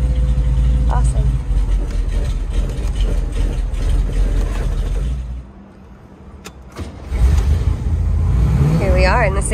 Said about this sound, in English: Here we are in the 67 Camaro. We got the top down. Nice cold start there for you.